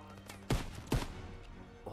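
Gunfire in the Call of Duty WW2 D-Day landing campaign, two sharp shots over a steady battlefield din.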